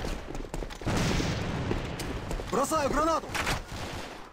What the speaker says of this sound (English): Killed you with your own gun.